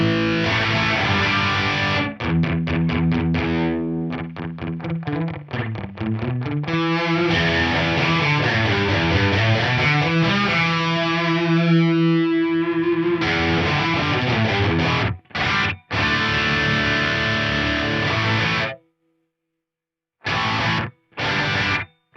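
Electric guitar run through an Eventide Rose modulated delay pedal, with modulation tied to playing dynamics: sustained distorted chords swell and warble with pitch-bending delay repeats, loud and continuous, then cut off abruptly with a few short stabs near the end.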